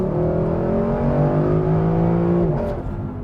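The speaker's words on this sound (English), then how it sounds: "just sounds like an old school NA V8, like exactly what you'd want from a exciting, enjoyable, fun sports car" A 2024 Lexus LC 500 with a naturally aspirated V8 revs up and holds a loud, steady, rising drone for a few seconds before the note dips and tails off near the end.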